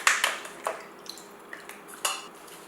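Pre-cut chicken gizzard pieces dropped into a cooking pot for a Nigerian gizzard and plantain sauce, giving a loud opening clatter followed by several lighter, scattered clinks and knocks against the pot.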